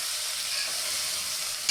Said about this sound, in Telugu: ఇది ఒకసారి పోపు పట్టేలాగా కలుపుకుందాం